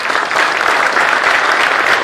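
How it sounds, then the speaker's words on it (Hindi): A hall audience applauds parents at a Chandigarh university gathering, with dense, steady clapping from many hands that holds loud and continuous throughout with no talk over it. "एक बार जोरदार तालियां अपने पेरेंट्स के लिए बजाइए।"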